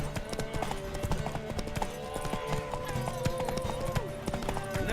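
Horse galloping in the video game The Witcher 3, a rapid rhythmic clip-clop of hooves running continuously over game music and ambience.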